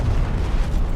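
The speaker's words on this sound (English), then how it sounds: "Oh, explosion." An explosion in the war game Call to Arms rumbles as a dense, low, continuous roar with no clear sharp onset, loud throughout the short burst.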